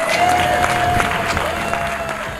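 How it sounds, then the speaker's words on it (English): A crowd at a live real estate agents' event breaks into loud, sustained applause, a dense roar of many hands clapping that holds steady from start to finish. "So everyone give a round of applause to Steve Haru"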